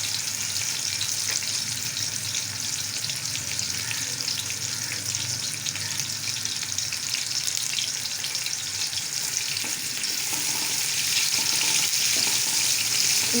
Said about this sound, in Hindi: ऑयल गर्म हो चुका है, इसमें डालेंगे प्याज, 2 मीडियम साइज के प्याज थे।